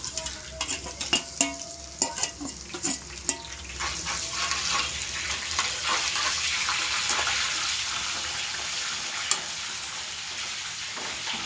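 Cumin, dried red chillies and curry leaves frying in hot oil for cabbage fry, with a few sharp stirring clatters at first, then a steady close sizzle.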